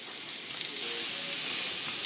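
Eggs heating briefly in a hot pan give off a steady, soft sizzle and hiss that holds evenly throughout, with no voices over it.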